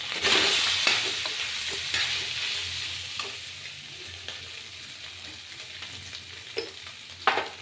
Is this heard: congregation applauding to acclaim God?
no